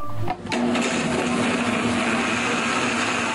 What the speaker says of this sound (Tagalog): Saka pinaandar ang blender.